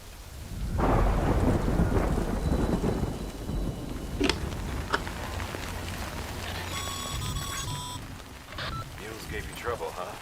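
Heavy rain and rolling thunder in a stormy Death Stranding landscape, a loud sustained downpour with deep rumbles and a sharp crack midway, while a voice speaks over it and a brief tonal chime rises near the end.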